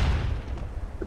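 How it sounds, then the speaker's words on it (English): A grenade blast in the tactical shooter SOCOM 2 on the Fish Hook or Crossroads maps: a loud, low rumbling boom that hits at once and rolls on as a dense, heavy roar for about a second. "Grenade out!"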